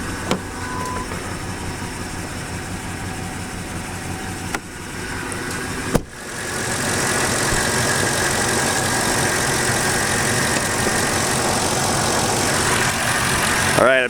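A 2004 Ford Explorer Eddie Bauer Edition engine idles at a steady, even hum, close by, with a brief clunk midway and someone talking over it.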